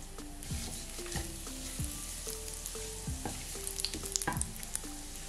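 Cumin, mustard seeds, crushed coriander and asafoetida fry briefly in hot oil or ghee for an Indian dal, giving a soft steady sizzle with light crackling pops and scraping stirs, faint and close, with no voices.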